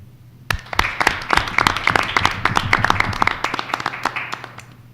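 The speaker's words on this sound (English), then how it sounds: "let's give a round of applause to the faculty and staff." An audience at a college council meeting applauds faculty and staff, a dense patter of many hands clapping that starts abruptly and holds steady at moderate loudness for several seconds.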